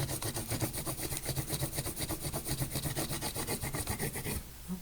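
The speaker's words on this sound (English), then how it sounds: "you rub the colors sideways across your leaf." Crayons rubbed sideways across a leaf laid under paper make a steady, rhythmic rasping scrape, loud and close, repeating in quick strokes before stopping abruptly near the end.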